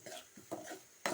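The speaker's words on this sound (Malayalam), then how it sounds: "മിക്സ് ചെയ്യാം." Fish roe thoran is stirred in a pan with salt and turmeric, a spoon scraping and tapping the metal in three short, close strokes.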